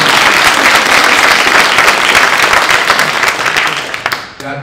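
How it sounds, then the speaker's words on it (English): Loud sustained applause from an audience at a town hall on gun violence prevention in Newtown, Connecticut, dense clapping close by that fades out toward the end. "let's have an applause for Stacey Abrams"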